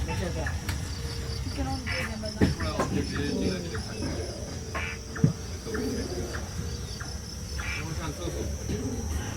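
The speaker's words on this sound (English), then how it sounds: "against a chorus of crickets" A dense chorus of crickets trills continuously through a warm tropical night at Singapore's Mandai Night Safari, with occasional bird coos and a couple of soft knocks, and a voice speaks over the steady insect hum.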